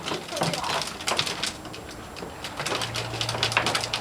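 A bird trapped inside a dog feeder flutters and coos in a muffled, enclosed space, with scuffling and rattling around it and voices talking nearby.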